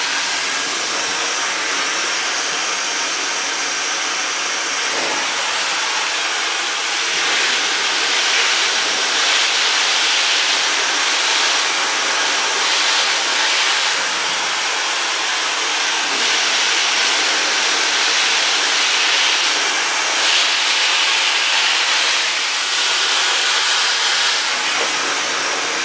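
A Dyson Supersonic hair dryer blows continuously, a loud, steady airy hiss that swells slightly in strength at times as it is moved through hair.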